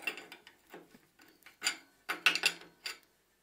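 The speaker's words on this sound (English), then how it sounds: "with this tool I close the lock nut to the cone" Short metallic scrapes and ratcheting clicks come in bursts at close range as a tool tightens the lock nut against the cone on the axle of an East German Renak bicycle crankset.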